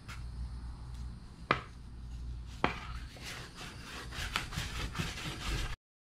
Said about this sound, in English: the longer you rub on it, particularly with the steel wool